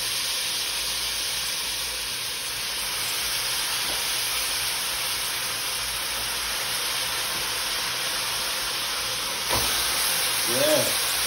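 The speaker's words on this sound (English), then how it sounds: "You hear that sizzle?" Chicken sizzling in a dry pot without oil for Trini stew chicken, a steady broadband hiss that holds throughout with a brief louder crackle near the end.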